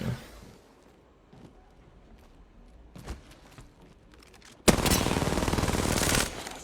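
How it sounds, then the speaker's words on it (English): Video game gunfire: a few scattered shots and footsteps at first, then a sudden burst of loud, rapid automatic fire lasting about a second and a half. "Shooting at me."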